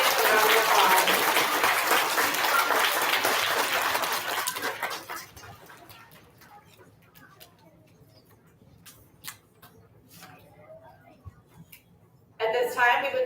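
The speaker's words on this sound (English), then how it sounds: "Give our special area nomination recipients a round of applause" An elementary school audience applauds student award recipients at a recognition ceremony, with loud, dense clapping for several seconds before it thins to scattered claps and quiet, then a brief burst of sound returns at the end.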